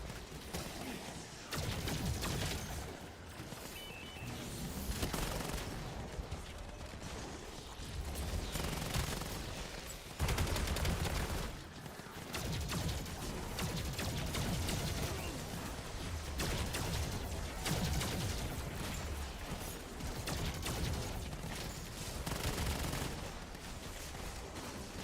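Turret firing in Black Ops 7 Zombies on Mars, a sustained stream of rapid shots and crackling impacts that runs almost unbroken, with short pauses, amid chaotic combat noise.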